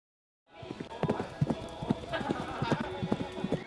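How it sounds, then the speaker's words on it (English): Horse hooves clip-clop in a steady, fairly close rhythm, with a brief neigh mixed in; the sound starts abruptly after a moment of silence. "I didn't know if that was a horse or what that was"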